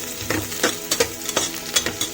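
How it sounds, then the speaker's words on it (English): Onions fry in a pan for a Karnataka-style mutton curry, a steady close sizzle broken by several rhythmic stirring scrapes. "So fry these onions."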